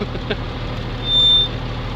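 A Volvo being towed by a homemade tow truck, heard as a steady low engine rumble with a brief higher whine in the middle.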